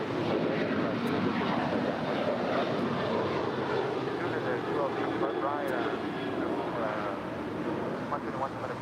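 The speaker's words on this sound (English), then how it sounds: "It's a 5-year-old Boeing 737-800." A five-year-old American Airlines Boeing 737-800 departs LAX with a continuous loud jet roar, and faint voices are heard beneath the engine noise.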